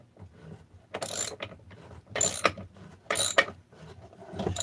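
A ratchet cranking a mechanism down on a 288 case setup, several bursts of loud rapid clicking separated by short pauses.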